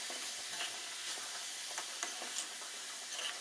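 A tempering with curry leaves frying in a pan, a soft steady hiss of sizzling oil with faint intermittent scraping taps of a spoon being stirred through it, fairly quiet and without talk.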